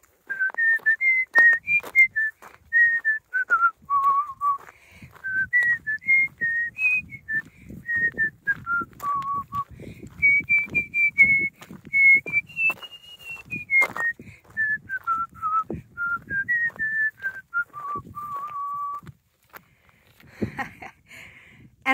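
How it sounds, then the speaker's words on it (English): A person whistles a tune alone, a clear, melodic line that wavers up and down in pitch with short breaths between phrases, with faint rustling underneath. "I am going to whistle this tune"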